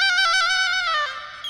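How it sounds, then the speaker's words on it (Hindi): A phone ringtone plays briefly, a bright, close electronic melody of quick repeated notes that fades after about a second and a half. "फोन बज रहा है"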